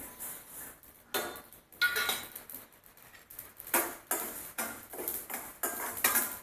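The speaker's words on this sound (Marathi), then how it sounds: "मी मोहरी घेतलेली आहे हलकंसं भाजून घ्यायचं आहे आपल्याला" Mustard seeds lightly dry-roasting in a hot pan for a pickle, giving irregular bursts of rattling, scraping clinks as they are stirred, close and fairly crisp with quiet gaps between.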